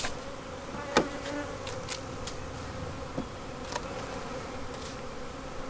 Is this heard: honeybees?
yes